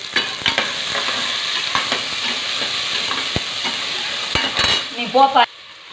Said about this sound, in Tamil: அதன் பின் வெங்காயம், தக்காளியை, மிளகாவை நன்றாக போட்டு வதக்கவும்.